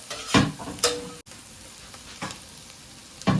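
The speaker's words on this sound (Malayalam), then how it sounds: "ഇഞ്ചി വെളുത്തുള്ളി നല്ല മൂത്തുണ്ട്" Ginger and garlic frying in a pan for Ravuthar biryani give a steady close sizzle, broken by a few sharp stirring scrapes of a spoon.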